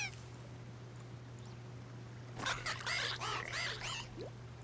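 A duck-like Pokémon cry from a Pokémon video game sounds as a rapid run of nasal, quacking honks in the second half, over a steady low electrical hum.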